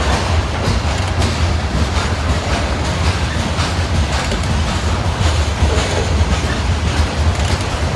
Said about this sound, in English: A lot of Canadian Pacific cars here.